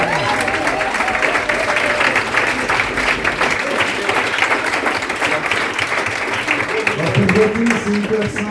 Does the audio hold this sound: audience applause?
yes